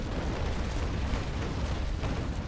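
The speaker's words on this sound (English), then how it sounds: "Now that's a beautiful broadside." A warship's cannon broadside in the naval battle game Naval Action, a dense, loud rumbling roar of many guns firing together, a continuous heavy boom with no talking.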